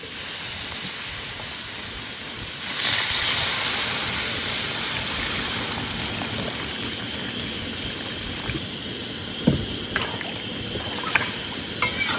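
Water poured into a hot pan of spiced tiger prawn curry, a loud sizzling hiss that surges then settles into steady bubbling with a few sharp clinks, close and without talk.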